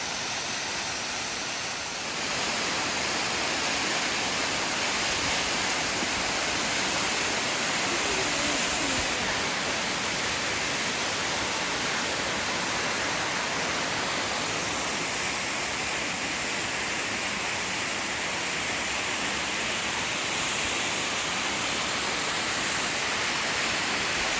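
Lovers Falls waterfall roars as a steady, broadband wash of falling water, heard from a creek below the falls, continuous and even at moderate level with no talking.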